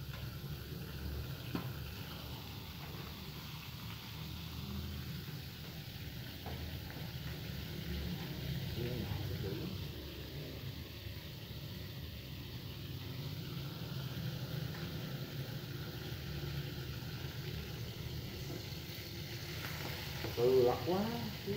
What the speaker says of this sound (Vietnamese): rắn bằm chiên lá lốt